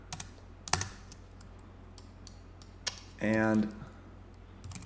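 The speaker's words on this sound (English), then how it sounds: "let's type in Vellum hair" Scattered keystrokes on a computer keyboard, a few sharp clicks spaced irregularly with quiet gaps, close by, with a brief spoken word partway through.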